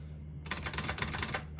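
Rapid keystrokes on a 1966 Smith-Corona Galaxie II portable typewriter, a dense run of sharp clacks struck firmly and heard up close over a low steady hum.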